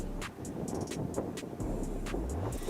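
A Subaru Forester SUV's engine revs to just over 2,000 rpm as the driver presses the gas in X-Mode on an off-road traction test. A steady, close engine drone climbs in pitch, mixed with clattering and wind buffeting.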